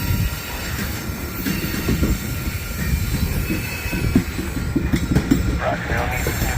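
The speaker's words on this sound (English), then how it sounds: "One train shoving into Red Rock now." A train shoving back into Red Rock yard in St Paul rumbles heavily at close range, with clattering wheels and brief high wheel squeals over a continuous low roar, and a voice heard faintly underneath.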